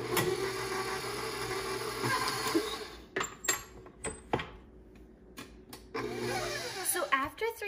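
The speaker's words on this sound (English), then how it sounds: "First, we'll put the butter in and mix it 3 to 5 minutes." Electric mixer whirring steadily as it beats butter for chocolate and vanilla cupcakes, a continuous hum with brief pauses and clattering bursts midway before the motor resumes.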